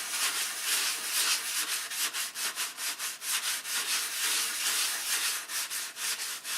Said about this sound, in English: sanding them to shape